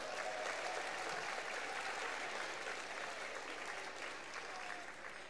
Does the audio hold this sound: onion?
no